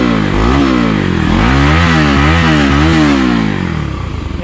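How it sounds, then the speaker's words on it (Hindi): Modified Bajaj Pulsar NS200 motorcycle exhaust, loud and close, revved in a series of sharp throttle blips over a steady idle, then settling back down. "आप लोगों को मैं एग्जॉस्ट सुना कर दिखाता हूँ"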